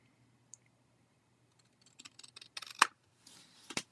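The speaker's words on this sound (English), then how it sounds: "We're just going to take our scissors and do a little cleanup job." Scissors snip paper while trimming a stamped background panel for a handmade Valentine's card, a few quick crisp cuts clustered near the end, close and fairly quiet with no talking.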